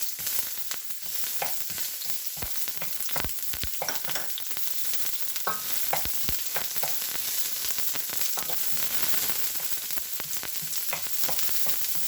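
Onions hit a very hot pan and fry with a continuous close sizzle, broken by frequent sharp clicks and scrapes of stirring, with no voices.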